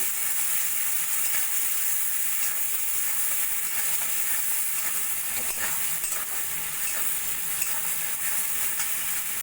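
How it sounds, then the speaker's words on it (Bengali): Steady sizzling of poppy seed paste frying in a pan, a continuous bright hiss with faint stirring scrapes, no voices. "পোস্ত বাটা দিয়ে দু তিন মিনিট মতো ভেজে নিয়েছি"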